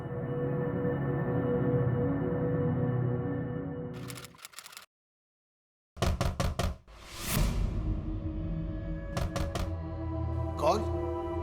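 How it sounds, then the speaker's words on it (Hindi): Loud knocks on a door in a dramatized police scene, coming in a few sharp bursts of raps separated by short pauses, with indoor room sound and some talk between them. "महेश जी, दरवाजा खोलिए।"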